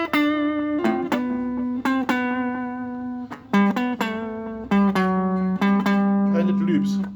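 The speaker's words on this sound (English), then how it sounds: "Now I'm going to switch back to electric, and we're going to tackle the solo quickly" Electric guitar plays a solo, a clear single-note melody of plucked notes with sustained tones, close and moderately loud, with no talking.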